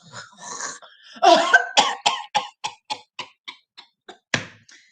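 A long burst of coughing, a few heavy coughs followed by a rapid run of shorter, fading hacks at a steady rhythm, then one more sharp cough.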